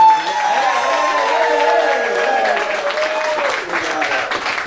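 An audience at an arts fest claps and cheers in a sustained round of applause lasting the whole stretch. A voice with a rising and falling pitch carries over the crowd noise.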